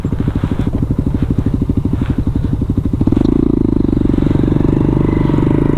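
Hero Xtreme 125R ABS motorcycle engine idling up close, a rapid even low pulse for about three seconds that then thickens into a louder, steadier rumble as the revs rise, with no voices.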